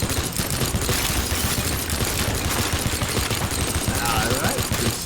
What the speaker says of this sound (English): Wrong minigun, that's why it's being weird.